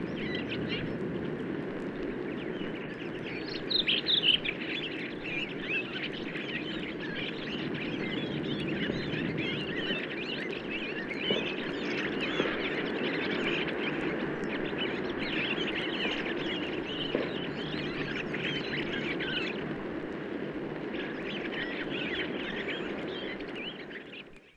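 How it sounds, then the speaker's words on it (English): Redwings twitter a busy, continuous sub-song in woodland, a dense chorus of small chirps and trills carrying steadily at moderate loudness with occasional fuller phrases standing out. "Here they indulge in a gay, twittering kind of sub-song"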